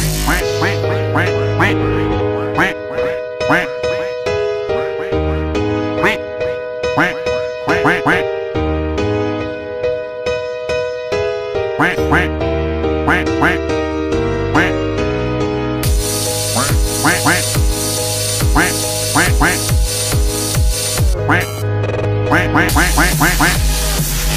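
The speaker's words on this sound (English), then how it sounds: "quack, quack, quack." Duck quacking in Minecraft Bedrock Edition, a steady run of loud, close quacks repeating throughout over a layered game soundscape, with brief changes in texture partway through.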